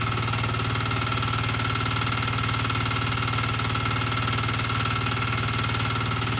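A walk-behind tractor's engine runs steadily as a generator powering household appliances, giving a close, even, throbbing drone with a buzzing hum that never changes pace.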